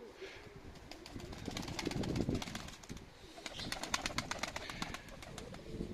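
Pigeons coo in a loft, with low, repeated throaty calls close by that overlap in uneven bursts, and the occasional faint rustle.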